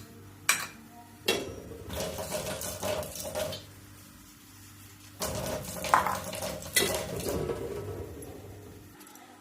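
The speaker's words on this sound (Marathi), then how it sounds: "पहिला 4 शेंगा भाजून घ्यायच्या." Cluster beans dry-roasting in a hot kadhai for a Maharashtrian gavar thecha, with close, intermittent bursts of metallic scraping and rattling as they are stirred, separated by quieter stretches over a low steady hum; no one speaks.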